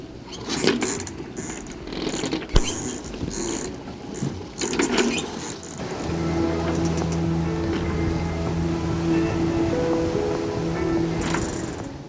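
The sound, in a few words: rough sea waves with current against them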